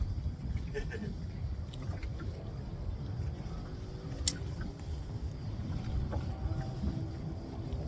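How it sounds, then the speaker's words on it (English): Steady wind buffets a small boat out fishing at Port Stephens, a constant rushing roar with a faint click or two, close to the microphone and heard alone. "Just wish this wind would go away."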